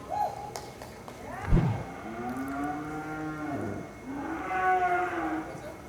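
Cattle moo in long, drawn-out calls, one low bellow followed by another, nearby, with a thump partway through, at a cutting-horse competition.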